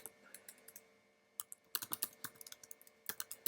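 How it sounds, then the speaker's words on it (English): A computer keyboard is typed on in short, irregular bursts of crisp, close key clicks, separated by brief pauses in an otherwise quiet room. "You can type in"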